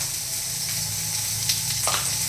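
Onions fry with salt in a kadai for paneer gravy, giving a steady close sizzle and hiss throughout, with a few faint stirring scrapes near the end.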